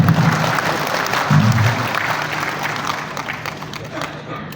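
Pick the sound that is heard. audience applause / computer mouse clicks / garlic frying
audience applause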